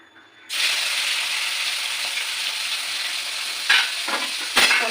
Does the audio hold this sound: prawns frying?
yes